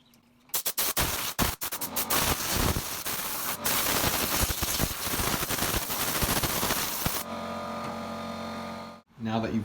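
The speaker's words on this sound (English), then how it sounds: "just grab the air compressor and blow some of this out" Compressed air from an air compressor blasts loose dirt off the air box of a Yamaha TTR 125 motorcycle, in loud hissing bursts that turn into a long continuous rush before cutting off into a steady hum.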